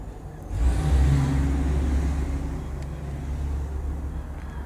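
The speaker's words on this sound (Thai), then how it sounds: "พอขุดดินขึ้นมาเราก็เอารถไถมาปาด" A tractor levels freshly dug soil while raising low-lying former rice-field ground into a garden plot. Its engine rumbles steadily close by, swelling louder after the first half-second and then holding a heavy, droning idle.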